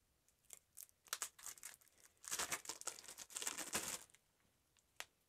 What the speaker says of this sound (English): So let's go, let's keep unwrapping.